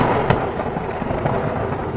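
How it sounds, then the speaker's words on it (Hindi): A sharp crack of thunder near the start, followed by rumbling, crackling noise that rolls on loudly for a couple of seconds. "फिर से एक बार जोरदार बिजली गिरने की आवाज आई"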